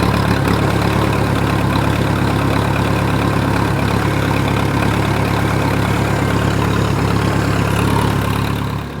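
A diesel engine idles loudly and steadily after a cold start with a jump pack, its low rumble close and constant throughout.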